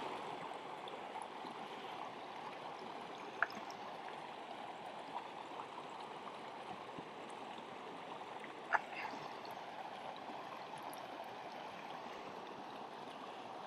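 A mountain river runs in a steady, continuous rush on a hillside horseshoe walk near Black Hill and Crowden, with a couple of faint clicks along the way and no talking over it.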